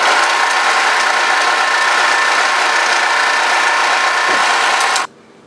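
An overlocker sewing machine runs steadily while hemming the body of a relaxed-fit sweatshirt, a loud continuous mechanical whir that stops abruptly near the end.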